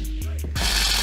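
Bolts on the trailer of a WPL B16 RC truck being tightened, with a brief close mechanical ratcheting and grinding that turns into a louder, continuous rasping whir.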